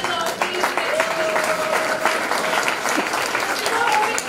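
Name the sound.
audience applause for the teachers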